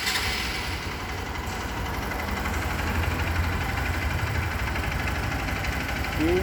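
A motorcycle engine idles at close range with its headlight switched on during a vehicle inspection line test, a steady low putter throughout with no voices.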